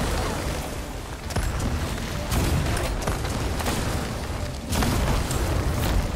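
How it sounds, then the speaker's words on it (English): Blunder bomb explosions in a video game: a rapid series of loud booming blasts and pops layered over a continuous rumble, with several sharp bursts standing out. "blunder bombs don't do shit against these guys"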